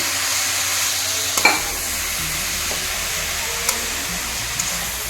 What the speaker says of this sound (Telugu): ఇదిగోండి కొంచెం పాకం వచ్చే వరకు తిప్పుతున్నాను